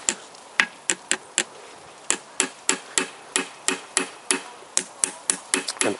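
Sharp, close hammer taps drive crankshaft bearings into a Toyota VVT-i engine block, striking steadily at roughly two to three blows per second, with a brief pause early on and a quicker burst near the end.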